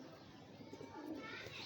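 Pigeons coo in a loft, a low throaty burble rising near the end, mixed with steady background chatter and a voice talking over it.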